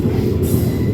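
A train leaving Nayagarh station, heard from on board as a loud, steady low rumble of wheels and carriage with no distinct clicks, close and continuous.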